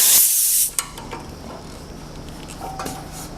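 Compressed air hisses loudly into a Norfield 440S manual stop stitcher's filter regulator for about half a second, then cuts off with a click, followed by quiet mechanical ticks and a faint tone.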